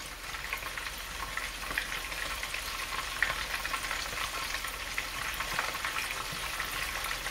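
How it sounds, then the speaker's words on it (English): Bacon-wrapped biscuits stuffed with boudin fry in hot oil, giving off a steady, close crackling sizzle with small pops scattered through it and no voices. "Remember to move them around often so that they fry evenly all around."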